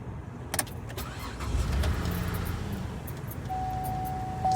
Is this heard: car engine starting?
yes